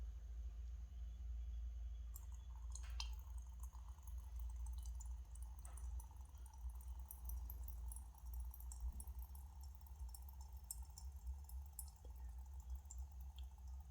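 Old petrol drains from the carburettor float bowl of an unrestored 1983 Honda QR50 two-stroke into a small pan, a faint, irregular dripping and trickling over a low background rumble.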